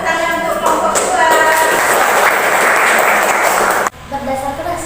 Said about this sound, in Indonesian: tepuk tangan untuk kelompok kedua